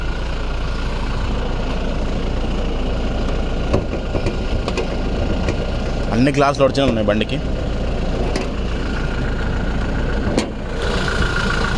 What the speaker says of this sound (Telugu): చూడండి సార్ బండి ఇంజన్ సౌండ్.